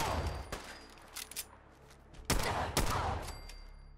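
A modded 12.7mm pistol in Fallout 4 fires several sharp, loud shots. There is one early shot, then two heavy reports close together a few seconds later, with fainter clicks and handling noises between them.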